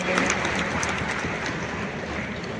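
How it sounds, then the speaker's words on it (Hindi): Loud applause welcomes Rajasthan's industry minister at the MSME Conclave of the Rising Rajasthan Investment Summit 2024, a broad continuous roar of many hands clapping in a large hall, steady throughout. "एक बार जोरदार तालियों से उनका स्वागत और अभिनंदन।"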